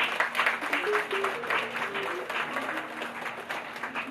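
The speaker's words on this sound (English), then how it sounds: "Give her a round of applause." Audience applause for a hat contest winner at an afternoon tea party, a steady crowd of hands clapping with a voice talking faintly over it, sustained and fairly loud.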